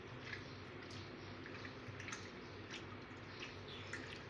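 Kaleji (liver) mixed by hand with ginger garlic paste, a steady close wet squishing and squelching with soft sticky smacks, faint and continuous without speech.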